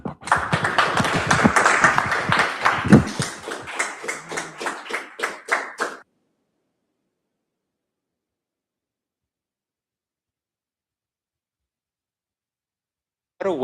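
An audience at a security meetup applauds a speaker for about six seconds, clapping close and fairly loud before it cuts to silence, with a brief sound returning at the very end.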